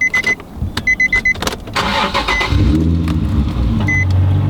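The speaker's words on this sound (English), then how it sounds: "and now the car's on" Manual-transmission car started with the clutch in and the gearbox in neutral: a few chimes and clicks sound first, then the engine cranks and catches into a steady, close idle.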